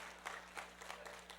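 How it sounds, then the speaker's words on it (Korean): Congregation clapping during a Sunday church sermon, faint and brief, with a few distinct claps in an uneven rhythm over a low steady hum. "할렐루야, 박수."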